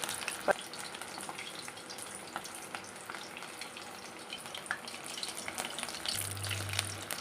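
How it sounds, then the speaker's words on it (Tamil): Anchovy fish for fish 65 fry in oil with a steady, fairly quiet crackling sizzle and scattered pops, continuing throughout. "சூப்பராக நாம் இதை வறுத்தெடுத்துடலாம்"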